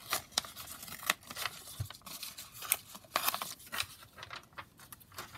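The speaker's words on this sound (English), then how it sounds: "So I'm going to tear this corner out." Paper being torn by hand for a handmade junk journal, a close series of crisp, crackling rips and rustles in quick irregular bursts, with no talking.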